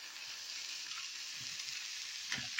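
Spices with chilli powder, curry masala and sambar powder sizzle and fry in hot oil in a pan, a continuous soft crackling hiss with a few brief scraping stirs near the end.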